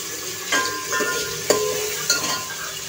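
Tomatoes sizzle steadily in a pan for a chicken curry, with a spoon scraping and stirring through them in a few soft clinks over the continuous close frying hiss.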